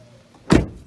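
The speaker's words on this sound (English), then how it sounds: "now I'm using a 90s style GM key to unlock the door" A single short metallic clunk as a 1990s-style GM key unlocks the door of a Chevy Silverado pickup truck. The close, sharp click-thunk follows a faint moment of quiet.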